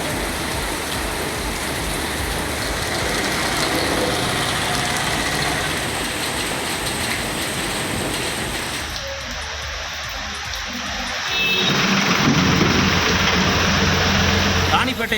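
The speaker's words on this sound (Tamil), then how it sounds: "கனமழை பெய்து சாலைகளில் வெள்ளநீர் பெருக்கெடுத்து ஓடியது" Heavy rain pours steadily and loudly onto flooded roads, with a dense, unbroken hiss that shifts in texture partway through; no distinct thunder stands out.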